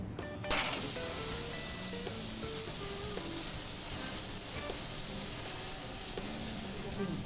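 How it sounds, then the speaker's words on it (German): A one-kilo tomahawk steak, dipped in oil, hits a hot grill and sizzles loudly, a sudden hissing spray that settles into steady crackling frying with faint clinks and talk underneath. "wir brutzeln es jetzt 5 Minuten auf jeder Seite"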